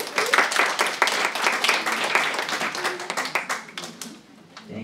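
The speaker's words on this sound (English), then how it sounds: "Ladies and gentlemen, please give a big round of applause to Dr. Rich Castellano." Audience applause at a talk welcoming a doctor to the stage, a dense burst of many hands clapping that stays lively for several seconds before thinning out and tapering off near the end.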